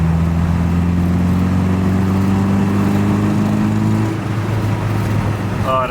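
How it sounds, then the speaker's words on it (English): An MGB engine fitted with a Tourist Trophy exhaust revs steadily with a deep, continuous drone up close, its harmonics climbing before easing slightly near the end. "let's listen to the engine one last time,"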